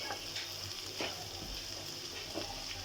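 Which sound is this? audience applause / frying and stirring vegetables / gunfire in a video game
frying and stirring vegetables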